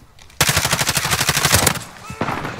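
Rapid automatic gunfire from a video game bursts out loud and close in one long rattling volley, followed by a shorter burst after a brief pause.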